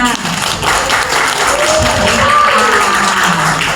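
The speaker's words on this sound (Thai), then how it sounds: "ขอเสียงปรบมือค่ ะ" An audience claps steadily to welcome a coach onto the stage at a Thai community development and farming training event, a dense even patter filling the room with voices and a rising tone mixed in.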